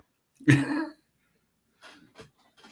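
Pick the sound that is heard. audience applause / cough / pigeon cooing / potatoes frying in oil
cough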